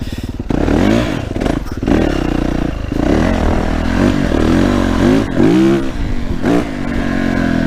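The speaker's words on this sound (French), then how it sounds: "Un petit coup de gaz." A Yamaha 450 YZF motorcycle engine, back out after winter, revs hard in loud repeated throttle blips, rising and falling pitch sweeps close to the microphone over a steady idle.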